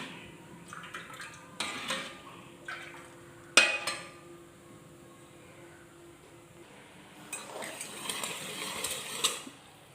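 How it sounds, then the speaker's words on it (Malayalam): A spoon stirs thick sugar syrup in a pan as it reduces to a single-thread consistency, giving scattered metallic scrapes and clinks against the pan with a sharp knock near the middle and busier scraping toward the end. "ഇത് നമുക്കൊന്ന് ഇളക്കി കൊടുക്കാമേ"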